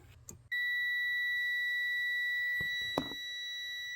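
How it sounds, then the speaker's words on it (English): A multimeter continuity tester's steady high-pitched electronic beep switches on and holds continuously while testing a car fuse, with a couple of faint clicks and taps partway through. "You touch the leads. You hear the beep and it lights up."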